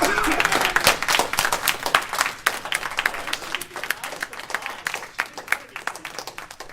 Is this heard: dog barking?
no